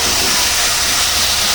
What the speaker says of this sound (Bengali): এখন কষিয়ে নিয়ে এরকম করে ভাজিয়ে নিতে হবে।